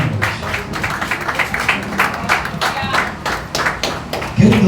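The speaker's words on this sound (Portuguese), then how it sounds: "Sente aplaudindo a Jesus bem alegre nesta noite" A church congregation clapping during an evening service, with a dense burst of irregular hand claps throughout and a brief louder thump near the end.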